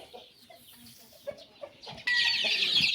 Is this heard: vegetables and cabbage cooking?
no